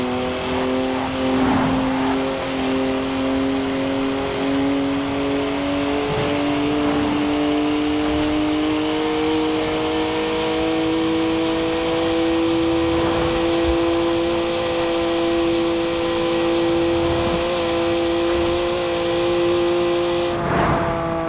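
A BMW 3-litre twin-turbo straight-six with 335 horsepower, driven in Forza Horizon 4. Its engine holds a steady, loud drone, with the pitch climbing slowly over a long run and a few brief clicks and thumps along the way.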